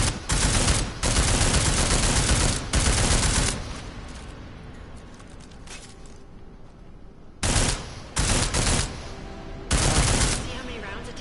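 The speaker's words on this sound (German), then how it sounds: "Wie viel soll ich denn darauf schießen?" Bursts of rapid automatic gunfire from the video game Deus Ex: Mankind Divided, loud and dense, fired in several separate volleys with quieter gaps between them and no talk.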